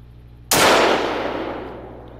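A single loud rifle shot in the hunting game theHunter: Call of the Wild, fired at a male animal: one sharp, close crack followed by a long, fading rumbling echo, heard alone.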